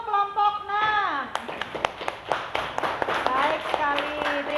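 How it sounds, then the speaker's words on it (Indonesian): Scattered hand claps from a classroom group after a presentation, a dozen or so uneven sharp claps of moderate loudness, with a voice speaking before and over the applause. "Beri tepuk tangan untuk kelompok 6."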